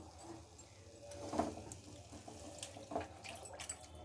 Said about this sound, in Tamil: இப்போ இந்த இதை வந்து நமக்கு தேவையான அளவுக்கு ஜலம் விட்டுக்கலாம்